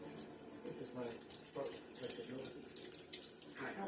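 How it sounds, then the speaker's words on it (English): Water poured into a cooking pot while preparing a Sunday feast, a steady splashing stream filling the pot close by, with a person talking over it. "So I'm going to put a little bit more water in here."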